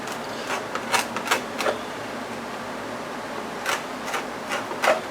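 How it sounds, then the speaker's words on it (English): A sharp body reamer boring holes in an RC crawler body, heard as short scraping, grinding bursts in irregular clusters at moderate distance, with quiet pauses between. "I'm just going to go ahead and use my body reamer."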